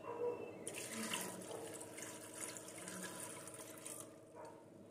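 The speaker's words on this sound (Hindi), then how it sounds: "और अब इसमें पानी डालेंगे।" About a large glass of water is poured into a pressure cooker holding elephant foot yam with salt and turmeric. It starts as a sudden splashing gush shortly after the start, runs steadily for a few seconds, then stops, with no talk over it.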